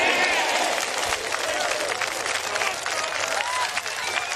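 Spectators at the AIG Women's Open golf championship applaud and cheer in a broad, continuous wash of clapping, with a commentator's voice talking over it.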